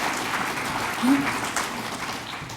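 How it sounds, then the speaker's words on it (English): An audience at an awards lunch applauds, a steady wash of many hands clapping at moderate volume that carries through without pause. "Go ahead, you can clap."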